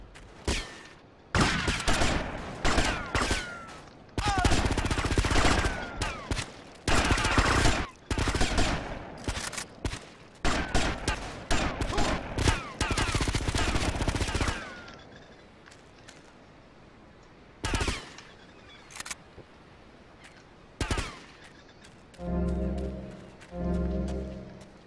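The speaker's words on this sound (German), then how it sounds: "wie sie mich durch die Wand dann schießen" Gunfire from GTA Vice City rattles in dense bursts and fusillades, loud and near, with pauses between volleys and a few isolated shots later on.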